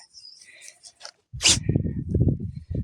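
A dog gives one sharp, snorting sneeze close to the microphone, followed by a person speaking softly.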